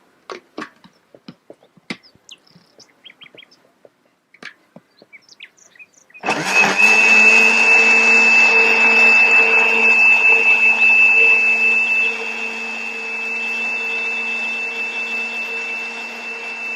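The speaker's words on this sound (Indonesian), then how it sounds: "kita blender lagi." A blender whirs steadily as it purees grapes and honey into a flu remedy, starting abruptly after a few soft clicks and knocks, running loud and close with a high whine, then settling slightly lower for the remaining seconds.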